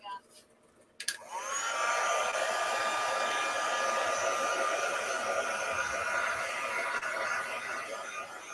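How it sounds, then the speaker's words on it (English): A heat gun switches on with a click and blows steadily, a loud close airy whoosh with a faint whine that holds constant for several seconds. "I'm just going to give this a bit of a hit with the heat gun"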